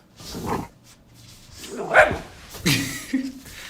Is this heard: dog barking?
yes